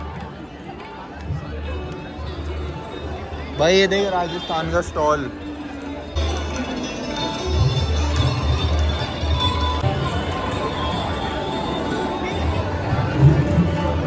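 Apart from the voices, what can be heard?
dense crowd of people at a fair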